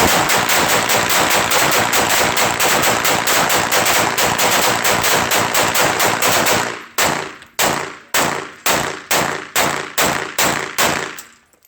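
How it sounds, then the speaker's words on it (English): A rifle in a mud test fires a fast, loud burst of automatic gunfire, then shifts to a string of separate, evenly spaced single shots, each ringing out close and sharp. "fired one shot and it jammed up"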